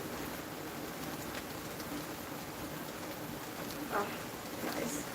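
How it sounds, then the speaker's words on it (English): Steady rain pours down outdoors, a dense continuous hiss of drops on surfaces with a few louder nearby patters toward the end, and no talk over it. "Oh, it's coming down. Oh wow, hopefully you can hear the rain."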